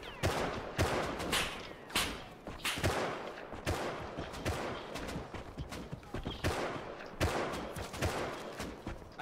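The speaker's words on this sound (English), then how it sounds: "That's an AK." AK rifle fire in the Rust video game crackles as a series of sharp, irregular shots, some in quick bursts, heard at moderate distance with no voices over them.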